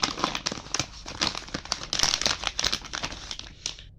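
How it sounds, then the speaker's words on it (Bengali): An HDMI VGA cable pulled from its plastic packaging, loud close crinkling and rustling of the plastic in quick irregular bursts for several seconds. "ভিতর থেকে কেবলটা বের করি।"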